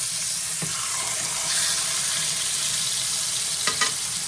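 Food for a roast dinner browning in a hot pan, a steady, close, bright sizzle that runs unbroken throughout, with a couple of faint clicks from the pan and no talking.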